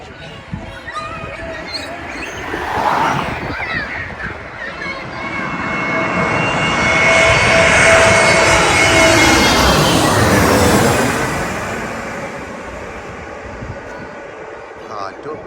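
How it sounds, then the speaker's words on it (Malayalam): A large jet airplane roars overhead while landing at Kochi airport, its engine swelling to a loud peak midway and fading away, with a steady whine running through it. "നൈസ് ഫ്ലൈറ്റ് ലാൻഡിംഗ് ആണ് ബിഗോ ഫ്ലൈറ്റാണ് വരുന്നത്"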